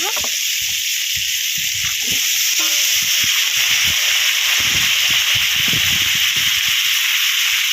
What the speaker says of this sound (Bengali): কাঁচা লঙ্কা দিয়ে দেবো ভেজে রাখা করলা আর আলু দিয়ে ভালোভাবে ভেজে নেব